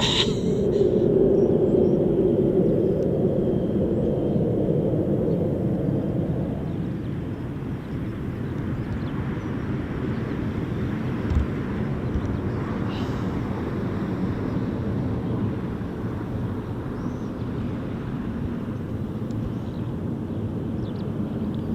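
A Red Arrows jet passes over RAF Marham as a loud, broad engine roar that is strongest at first and then eases into a steady distant rumble, with wind buffeting the microphone.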